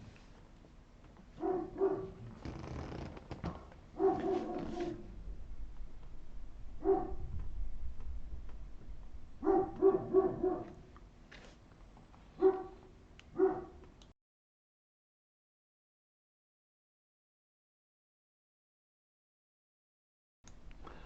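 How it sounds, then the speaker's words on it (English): Indoor dogs barking in short clustered bursts of several barks, mid-distance and moderately loud, with a few whimpery yips, stopping abruptly before a long silence near the end. "I don't know why they're barking."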